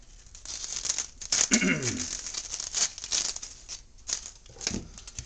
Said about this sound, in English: And then my onion, typically like to peel a good portion of that off.